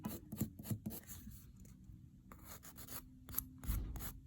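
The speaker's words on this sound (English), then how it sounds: "I'm just lightly going over with a nail file" Soft, faint rasping strokes of a nail file lightly buffing fingernails before a dip powder manicure. The brief, scattered strokes come close up in a quiet room.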